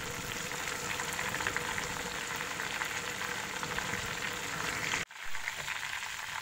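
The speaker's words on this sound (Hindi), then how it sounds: "ये देखिए फ्राई हो चुकी है" Chilli cheese bites deep frying in hot oil give a steady, dense sizzle that carries on close and even for several seconds, broken by a brief dip near the end.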